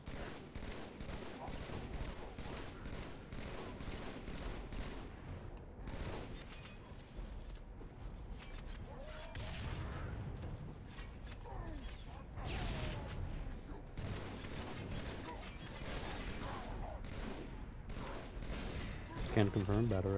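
Battle rifle fire in Halo 3 crackles in repeated short bursts over a busy game soundscape of mechanical clanks and other weapons, while a person talks intermittently across much of the stretch.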